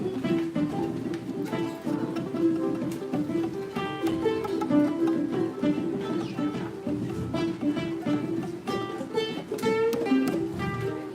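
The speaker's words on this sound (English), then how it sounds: "So electric guitar, this is called muted picking" Palm-muted electric-guitar-style picking at a ukulele master class: a steady, percolating stream of short, damped plucked notes, fairly quiet and continuous with no talking.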